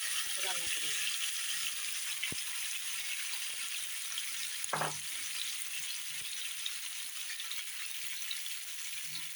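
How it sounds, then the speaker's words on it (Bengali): Egg-yolk-coated pieces of precooked meat fry in a little oil in a kadai with a steady, faint, hissing sizzle, broken by a few soft clinks and stirring knocks, with no voice over it. "তারপর এটা আলাদা করে আমি ভেজে নেব"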